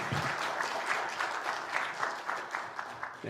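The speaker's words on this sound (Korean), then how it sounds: "박수로 한번 맞아주시기 바랍니다" Steady applause from a church congregation welcoming a speaker to the front during a Sunday service, sustained clapping throughout with a few sharper claps standing out near the end.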